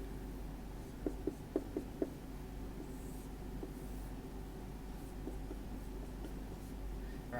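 A marker or chalk writes a calculus derivative chart on a classroom board: a few faint, quick taps and strokes early on, under a constant low hum and hiss.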